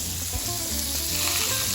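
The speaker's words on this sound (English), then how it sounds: "Let's sizzle away, baby." Lobster tails sizzle steadily in butter inside a brick oven, a dense, continuous frying hiss close by with no voices.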